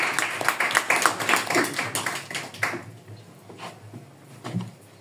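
Scattered audience clapping at an open mic night in a Kraków rock bar, a burst of fairly close claps that thins out and fades to a few isolated hits before stopping.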